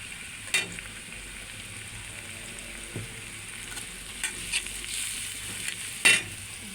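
Ground spices, chili, coriander and cumin fry in a hot pan for a fish curry with Malabar spinach. The sizzle is a steady, close hiss broken by a few sharp clinks and scrapes, and no one talks.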